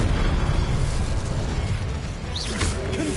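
Incendio fire spell cast in Hogwarts Legacy on PS5, a steady roaring whoosh of flame that runs the whole time with a burst of crackle near the end, loud and dense.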